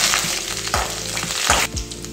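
Garlic and chopped green chili fry in oil in a pan for a panang kizhangu upma, with a steady close sizzle and a few scraping stirs of a spoon across the pan.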